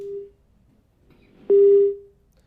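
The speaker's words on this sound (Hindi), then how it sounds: "फोन उनका कट गया" A telephone busy tone on a phone-in line after a caller from Jaipur drops off a live TV debate show, with a short beep, a pause, then a louder steady tone that fades.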